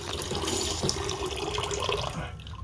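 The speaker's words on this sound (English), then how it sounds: "we just turned the water on and tested it" Water runs steadily from a bathroom faucet, a moderate hissing flow that continues without a break and thins out near the end.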